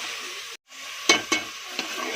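Chicken karahi base stirred and frying in a pan, a steady soft sizzle broken by a brief pause and a few sharp scrape-like stirring hits.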